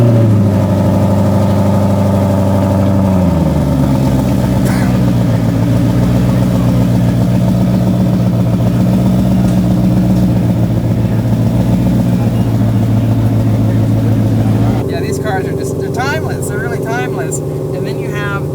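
A rare Mustang V8 settles from a raised start into a steady, loud, rumbling idle heard close up, holding constant for many seconds before the tone shifts near the end with added high-pitched chirps.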